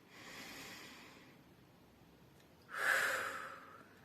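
Two slow breathwork breaths close to the microphone, an airy breath in the first second fading out, a pause, then a louder, sharper rush of air that tapers off; no words.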